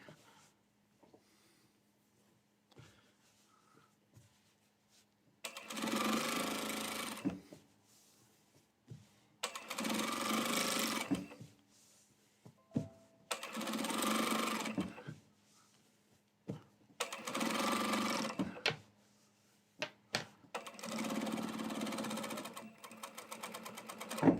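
A sewing machine top-stitches a sleeve in five steady whirring runs of a few seconds each, separated by quiet pauses, heard close and clear.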